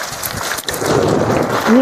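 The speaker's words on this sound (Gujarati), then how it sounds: "મને ચાલુ વરસાદમાં ધાબા ઉપર જોઈએ કેવો વરસાદ પડે છે ફરતો" Steady rain falls on an open rooftop terrace, a dense continuous hiss close by with a slight lull midway, while a person talks over it.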